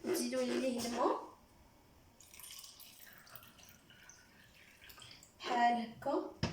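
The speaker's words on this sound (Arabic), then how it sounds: "غادي تضيفوا ليه، تزيدوا ليه الماء" Water poured into a small amount of dried chickpeas to soak, a light dripping and trickling splash between stretches of someone talking before and after.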